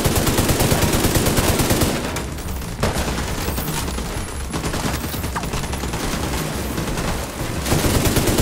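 An enemy chain gunner in The Division 2 lays down heavy, continuous machine-gun fire, loud and dense throughout, with rapid overlapping shots that thin briefly before resuming at full intensity.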